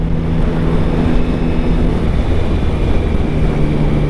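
A 2023 Yamaha MT-09 motorcycle cruises on a test ride, its engine a loud sustained hum mixed with heavy wind noise, steady and close throughout without speech.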